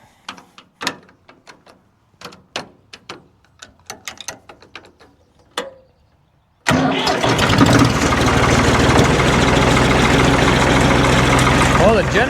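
A Ford 4000 tractor engine, a unit with a freshly repaired generator and voltage regulator, is heard after several sharp clicks and knocks; it fires abruptly and settles into a loud, steady, close running drone that holds to the end.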